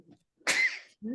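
A single sharp sneeze close by in a zoning board meeting room, a sudden burst with a breathy tail, preceded and followed by faint murmuring talk.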